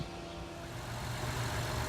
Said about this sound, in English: I've had the engine running for a minute or two.